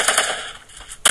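Rapid gunfire from a double-barrel shotgun in a video game battle, loud and close, with bursts of blasts at the start and another sharp burst at the end.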